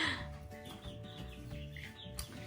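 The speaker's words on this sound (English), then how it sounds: "we've got quite a few different breeds of chickens" Several chickens of different breeds cluck quietly on a homestead, soft irregular calls over a low hum of background noise.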